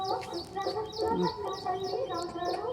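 Country chickens cluck repeatedly in a steady chorus nearby, hens and a rooster, with short calls overlapping and the rooster's louder note among them.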